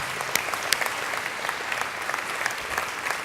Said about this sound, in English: a round of applause for Shane as well